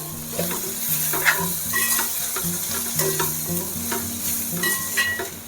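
Spices and green chillies are stirred in a sizzling cooking pan for a paneer and soya chunk biryani, with close, repeated spoon scrapes over a continuous frying crackle and no talk.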